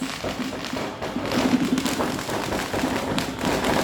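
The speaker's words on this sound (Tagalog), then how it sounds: "May fireworks sa labas." New Year's Eve fireworks going off outside, a scattered run of dull pops and thuds at moderate distance with background noise throughout.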